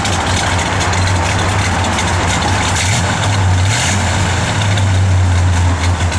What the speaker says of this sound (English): Good sounding Mopar.